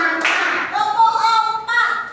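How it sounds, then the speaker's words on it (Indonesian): In a classroom, children clap on a teacher's count, a few sharp claps spaced apart and mixed with chanting voices. "Tepuk satu. Tepuk dua. Tepuk tiga."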